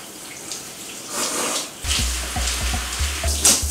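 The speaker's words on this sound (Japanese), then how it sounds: "この食器をここで洗う。" Tap water runs and splashes into a sink with clinks and knocks of dishes being handled, close by and fairly quiet.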